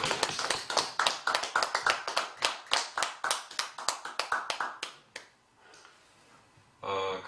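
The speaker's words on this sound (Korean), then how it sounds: "큰 박수로서 한번 보내드리겠습니다." A small audience at a Buddhist temple ceremony for Buddha's birthday claps in a crisp, close, fairly rhythmic burst lasting about five seconds, fading to quiet before a brief murmur returns.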